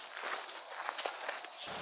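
Footsteps walk along a paved road toward a bus stop, a brisk, even series of soft scuffs that stay close, set against a continuous high-pitched outdoor drone, then stop abruptly near the end.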